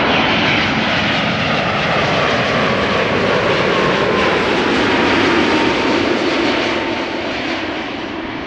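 KLM airliner on arrival at Amsterdam Schiphol after the flight from Atlanta, a steady, loud, wide jet roar with a faint whine running through it, constant throughout with no voices.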